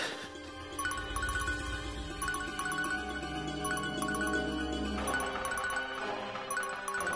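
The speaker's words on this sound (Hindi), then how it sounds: "ये तो सैंडी की रिंगटोन है।" A mobile phone ringtone plays a bright, tinkling electronic melody of repeating chime-like notes over a steady low backing, continuous for several seconds at moderate volume, with no voices.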